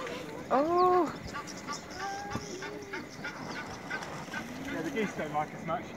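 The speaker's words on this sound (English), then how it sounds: "Yeah, the geese don't like us much." Geese honk loudly near an air balloon ride out in the bush, a few sharp nasal calls spaced across the moment while people chatter underneath.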